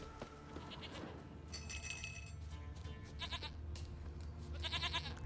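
A goat in the video game The Witcher 3 bleats several times in short, wavering calls over a quiet game background, fairly faint.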